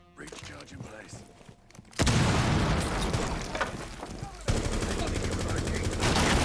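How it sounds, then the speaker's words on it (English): Breaching charges blow during a Rainbow Six Siege esports match, two loud blasts about two seconds apart, each leaving a dense wall of crackling, gunfire-like noise that stays loud afterward. "Lots of breaching charges coming out to do a lot of self-destruction."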